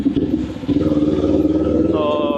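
Kawasaki Ninja 400 motorcycle riding through Manila city traffic, its engine droning steadily and loud throughout, with a rise in pitch near the end as it revs, under some background talk.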